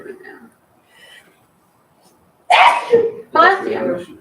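A single loud, sharp sneeze bursts out during an office committee meeting. A brief quiet murmur comes before it, and a voice speaks right after.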